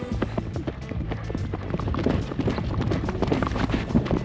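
Horse hooves clip-clop quickly and unevenly on the ground during a ride with Mongolian horses, close and moderately loud over light background noise.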